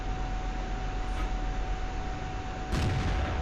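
A T-34-1 tank cannon fires once in World of Tanks with a sharp, heavy boom partway through, over a constant rumbling engine bed.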